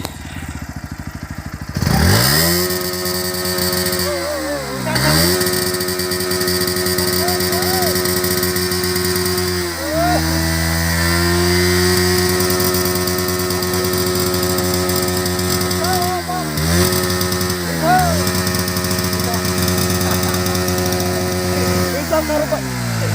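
KTM Duke and Pulsar NS motorcycle engines revving up and dropping back repeatedly, close and loud, with sharp rising and falling sweeps over a steady idle; voices are faintly present.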